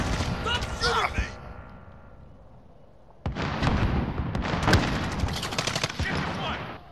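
Video game gunfire, with rapid automatic bursts and single shots crackling loudly, first briefly at the start and then densely after a pause, while a voice talks over the opening shots.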